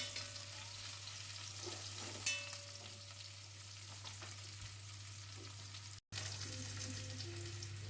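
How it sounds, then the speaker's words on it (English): Onions and carrots fry in a little oil for a beef and ale stew, giving a steady, dense sizzle with occasional stirring scrapes and a constant low hum underneath; no one talks. "Fry off your onions and your carrots in a little bit of oil"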